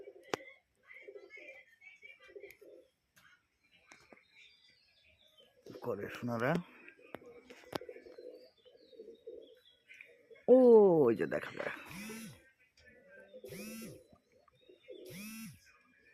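Pigeons coo at intervals against a quiet outdoor background, with several rounded calls near the end, while someone talks quietly.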